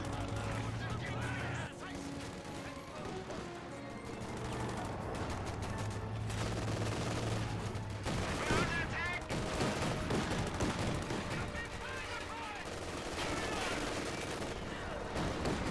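Machine gun fire in the Company of Heroes 2 strategy game, bursts of rapid shots mixed with other battle gunfire and explosions amid constant combat noise, while a commentator talks over it.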